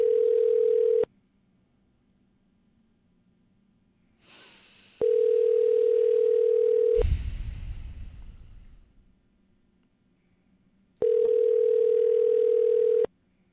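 A telephone line during a cold call to a business plays a steady ringback tone in three long, loud bursts with silent gaps between them. A short burst of rustling and breathy noise fills one gap near the handset.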